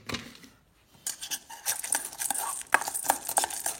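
Coated fishing bait pellets being stirred in a container give off a clattering patter of small hard pieces, brief and intermittent after a short pause, then a busy rattling churn.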